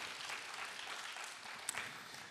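A church congregation at a Friday prayer meeting applauds, a soft, even wash of clapping heard from a distance, steady and faint, with one brief sharper clap near the end.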